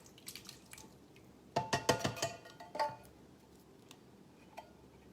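Canned sour cherries and their juice poured into a pot, a burst of wet splashing and dripping plops for about a second in the middle, with a few scattered drips before and after, fairly faint.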